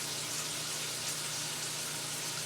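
A small decorative waterfall fountain running indoors, giving a continuous, even rush of trickling and splashing water at close range with no breaks.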